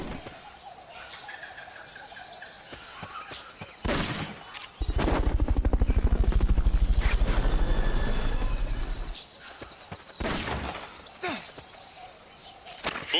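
Helicopter from the video game Metal Gear Solid Peace Walker, a loud rotor thump swelling in for several seconds and fading, with brief gunfire bursts and game effects around it.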